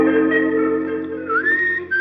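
A man whistles a steady, sustained tune in an old-time radio drama, a loud clear melodic line with a brief bending slide near the end and no talking.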